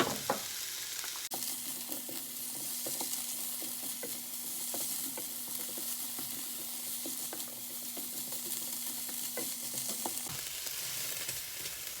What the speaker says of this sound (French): je veux continuer de brasser ça jusqu'à temps que mes oignons soient translucides et que mes piments soient un peu cuits